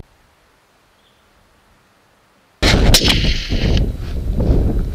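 A single sharp rifle shot fired at a stag on a Scottish hill breaks a near-silent stillness, followed by a rolling echo and rumble that lingers for a couple of seconds.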